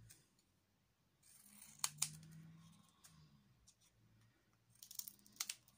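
Scissors cutting black paper for a handmade camera-box craft, a few crisp snips in two short bursts, close and fairly quiet with no talking.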